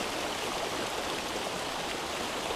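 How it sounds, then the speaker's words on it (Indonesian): Murky river water flows in a dense, continuous rushing wash, close and steady with no voices. "Dan yang terjadi, air mengalir terlihat cukup keruh."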